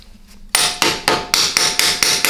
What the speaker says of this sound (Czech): kladivo a starý šroubovák je pro mě nejjednodušší